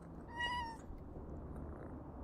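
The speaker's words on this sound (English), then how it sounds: "I hear the cat." A single short cat meow, soft and clear, rises briefly from a quiet room with a low background hum.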